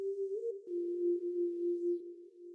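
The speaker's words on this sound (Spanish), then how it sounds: "Este sonido también es del GMS, y es el Synth 12." A voice-like Synth 12 patch from the GMS synth in FL Studio holds one sustained, smooth tone. It has a quick pitch slide near the start and a gentle wavering swell, and plays alone.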